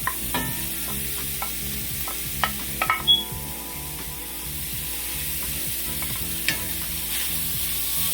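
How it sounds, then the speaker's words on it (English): Pork bacon fries in a cast iron skillet with a steady, close sizzle, broken by a few sharp pops and crackles and some clinking of a utensil against the pan. "Allow this food to fry. So you don't need any oil because this is pork"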